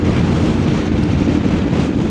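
Steady wind buffeting roars over the rider on a moving Voge DS900X adventure motorcycle on a windy day, a continuous dense rushing noise close to the microphone with no talk.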